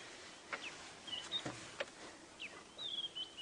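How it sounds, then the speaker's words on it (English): Thin bird whistles and chirps sound faintly at a distance over a hiss of background noise, scattered and irregular. "Definitely one of the most pleasant birds to listen"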